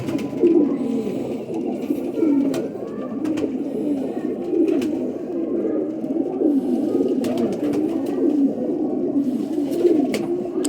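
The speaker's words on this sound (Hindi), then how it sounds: "सादा सा कबूतर" Pigeons coo over and over in soft, throaty bursts, with occasional sharp clicks or wing flaps nearby.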